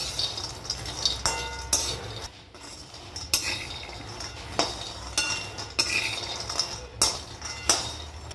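Almonds are stirred in ghee in a kadhai with a metal spoon, giving repeated scraping clinks and rattles against the pan at an irregular rhythm, close and moderately quiet.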